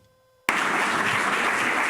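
A round of applause at the University of South Florida for a governor's bill-signing, with a dense burst of clapping that cuts in abruptly after a brief tone and holds steady and loud.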